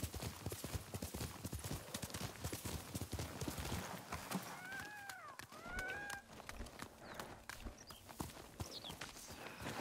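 Horse hooves clip-clopping in the video game Ghost of Tsushima, a quick steady stream of close, crisp hoof beats, with a brief neigh-like call in the middle.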